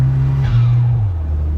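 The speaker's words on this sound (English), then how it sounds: "you always want to hear that whooshing noise from the turbo" Saab 9-3 Turbo engine under fluctuating throttle, with a steady low drone that dips in pitch and a faint whooshing turbo compressor surge rising over it, near and fairly loud.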